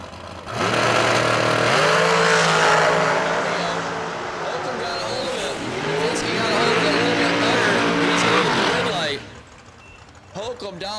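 A Dodge 358 cubic inch dragster engine screams at up to 10,000 RPM at a drag strip, a loud sustained roar with rising and falling pitch sweeps that stops sharply, leaving quiet crowd noise.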